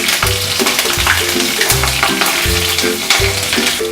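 Asafoetida with slit red and green chilies hits very hot oil for okra kadhi, a loud, close, continuous sizzle and crackle with stirring clatter and no speech.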